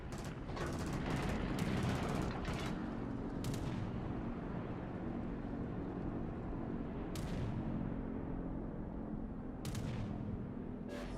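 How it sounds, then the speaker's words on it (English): Anti-aircraft guns on the battleship Warspite fire at Ranger carrier fighters in World of Warships, rapid clusters of sharp bangs over a continuous heavy rumble, coming in bursts with gaps between volleys. "My AA gun trying to take down one of the Rangers fighters."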